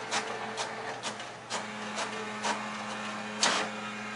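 An HP DeskJet 2545 inkjet printer copies a page in black and white: a steady motor hum with regular clicking, whirring print-head passes roughly every half second, close by and fairly quiet, with no talking.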